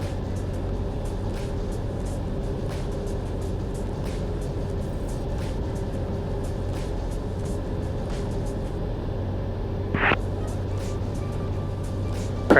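Cabin of a Cessna light aircraft on final approach, a steady low engine drone and hum that stays constant, with a brief burst of radio or voice near the end.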